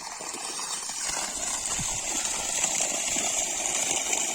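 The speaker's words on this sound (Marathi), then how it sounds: "आपला तीन एच पीचा सोलर पंप किती छान रित्याने पाणी टाकत आहे" A 3 HP solar pump gushing water on a farm, a steady broad rushing roar that holds even and fairly loud throughout, with no talk.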